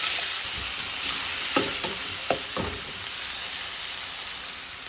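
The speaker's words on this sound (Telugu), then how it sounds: "ఒక హాఫ్ స్పూన్ ఆయిల్ వేసాను, తిరుమల దినుసులు వేయండి, టర్మరిక్, పసుపు, కట్ చేసిన ఆనియన్ వేసాను" Spices, turmeric and chopped onion fry in half a spoon of oil, giving a steady hissing sizzle with a few brief stirring scrapes in the middle.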